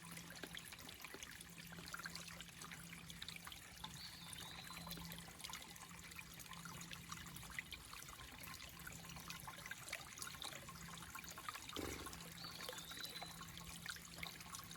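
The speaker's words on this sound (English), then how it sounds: "you don't need to watch me fill up all this water" Water trickling steadily into bottles from a stream along the Appalachian Trail between Snickers Gap and Harpers Ferry, a continuous close burble and splash running on without a break, with a brief louder bump near the end.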